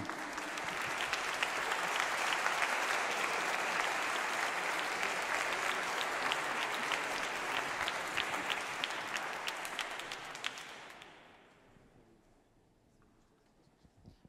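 A concert audience gives sustained, dense applause for a boys' choir, the Escolanía Santa Cruz, at a music academy in Précigné. It holds steady for about eleven seconds, then dies away to near quiet.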